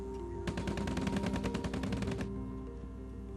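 Fighter plane machine guns fire a rapid burst of closely spaced shots lasting under two seconds, loud and alone, then stop abruptly.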